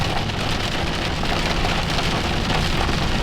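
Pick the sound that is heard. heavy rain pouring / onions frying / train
heavy rain pouring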